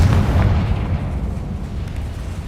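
A Confringo fire spell bursts in Hogwarts Legacy, a loud booming explosion with a heavy low rumble that decays over a couple of seconds, with no talking.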